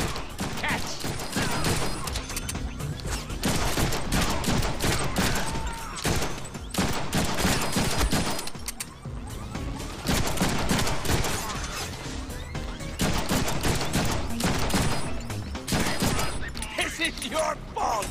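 Automatic and rapid gunfire in the Deadpool video game, dense and loud bursts that run almost without a break alongside game music and effects, with brief spoken lines from characters over the din.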